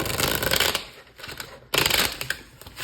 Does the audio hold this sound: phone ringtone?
no